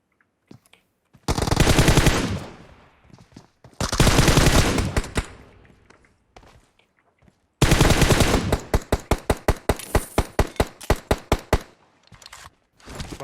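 Rapid automatic gunfire from the PUBG Mobile battle royale game, with two long sustained bursts followed by a third burst of loud, distinct repeated shots that break up toward the end.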